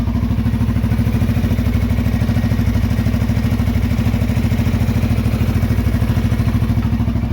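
A 2005 Yamaha Raptor 350 ATV engine, fuelled with ethanol-free 90 recreational gas, idles loud and close with a steady, even low thumping putter, and no one speaks.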